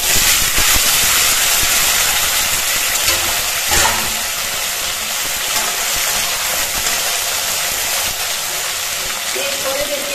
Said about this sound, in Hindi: अब आलू को हम फ्राई करेंगे।